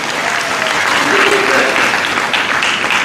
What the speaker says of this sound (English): Let's give her a clap, please.